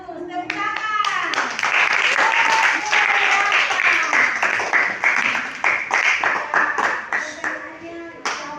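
Students in a classroom clap together at a mathematics lesson. Sharp, fairly close handclaps form a lively, uneven patter for several seconds with children's voices mixed in, then taper into scattered final claps.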